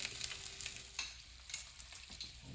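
Pineapple bacon sausage browns in a hot pan, a close sizzle broken by scattered crackles and pops, with a brief thin tone early on and no speech.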